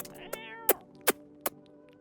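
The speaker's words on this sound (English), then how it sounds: "Kitty? Kitty? Kitty? Where's the cat, bro?" A cat meowing in the video game No, I'm Not a Human: one drawn-out meow followed by several short, separate meows, fairly close and clear over a quiet background.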